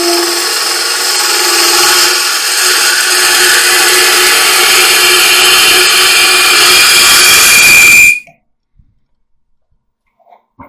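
A woodturning lathe hollows the inside of a wooden goblet, giving a loud, continuous grinding and scraping whir with steady tonal hum that runs for about eight seconds, then cuts off abruptly into near silence and a few faint clicks.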